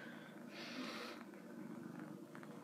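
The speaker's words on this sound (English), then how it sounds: "Listen. She's purring." A domestic cat purrs softly and steadily close by, a low continuous rumble, quiet and without voices.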